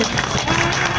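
A crowd applauds at the opening ceremony of an invitational volleyball tournament in Rustampura, Surat, with dense, steady clapping close by and faint voices mixed in.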